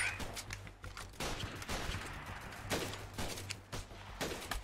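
Bursts of rapid gunfire in the video game Freeman: Guerrilla Warfare, a tactical shooter, crackling in several quick volleys at moderate distance, fairly faint overall, with no talking.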